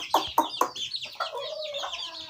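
Farm chickens and roosters cluck nearby, with three sharp loud clucks in quick succession followed by longer, drawn-out calls overlapping one another.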